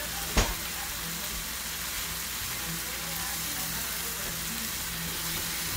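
Strips of turkey bacon fry on a flat griddle with a steady, broad sizzle and faint crackle throughout, opening with a brief sharp tap close by.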